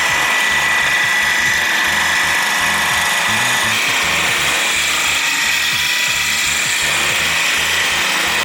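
Ryobi polisher with a finishing pad working over car paint on an E30, a loud steady mechanical whir with a rhythmic rattling pulse, running continuously close by with no talking.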